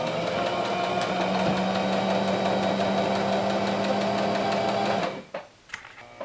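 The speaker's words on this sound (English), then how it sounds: "Now I'm just sewing straight down the middle to keep these two pieces of fabric attached." A sewing machine stitches a long straight seam through two layers of fabric for weightlifting wrist wraps, a loud, steady rapid mechanical chatter close by that stops abruptly near the end, followed by a few light clicks and handling sounds.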